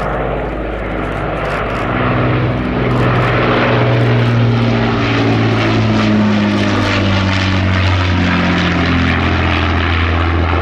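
An Avro Lancaster bomber built in 1948 flies over a vintage airshow, its piston engines and propellers making a loud, throbbing drone that swells slightly and holds steady overhead.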